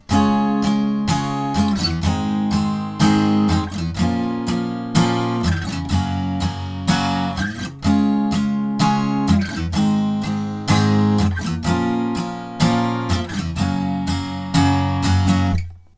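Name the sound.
guitar strumming chords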